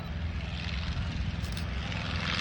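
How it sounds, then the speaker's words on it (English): Light propeller airplane flying overhead at an aerodrome in Rhinebeck, New York, a loud, steady engine drone close by with no voices. "Look at that light plane go."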